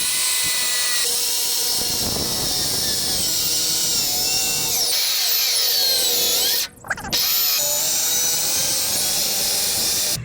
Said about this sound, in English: I'm going to try to cut with the circular saw.